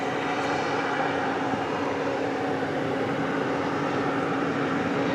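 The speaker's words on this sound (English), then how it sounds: "firing up of one of our UPS planes next door to us" A UPS cargo plane's engines spool up at DFW Airport close by, a steady loud broadband roar with a faint whine running unbroken throughout.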